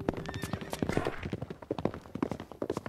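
A horse's hooves clip-clop in a steady, quick rhythm of sharp knocks, close and fairly quiet, with a brief tonal sound early on and no clear talking.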